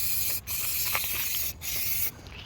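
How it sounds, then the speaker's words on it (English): Brake cleaner spraying carbon deposits off a Honda CR-V engine part, three close hissing bursts separated by brief pauses. "So we're gonna clean it with the part brake cleaner."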